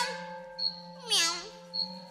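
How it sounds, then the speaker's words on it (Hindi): A small cat sitting on a snooker table gives a single rising-and-falling meow, moderately faint, over a steady droning background tone. "ये एक छोटी सी बिल्ली थी जो स्नूकर टेबल पर बैठी थी"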